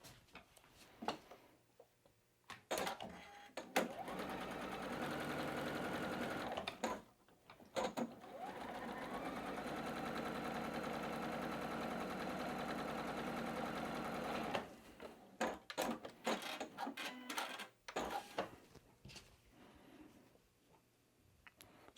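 A sewing machine stitches pieces of a quilt block together, long rectangles going onto the outside of a centre square. Close, steady whirring bursts come with short stops and soft handling between them.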